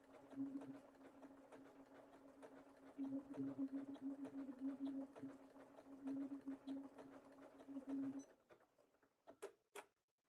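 Domestic sewing machine stitching appliqué fabric, a steady mechanical hum with a whirring drone running in bursts for about eight seconds, then stopping, followed by a few brief sharp clicks.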